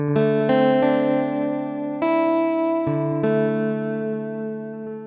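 Plucked string preset from the AAS Chromaphone synth plugin, playing a series of bright, ringing plucked notes with sharp attacks and long sustained decays, loud and clear with no talking.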